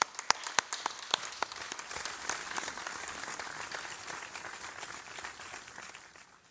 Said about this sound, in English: Families, friends, and employers, a big round of applause to the graduates